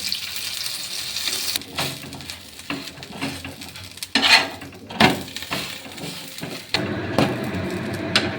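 A vegetable paratha fries in a little oil on a pan, giving a steady sizzle broken by scraping and clattering of a spatula against the pan, close and fairly loud, with no talk.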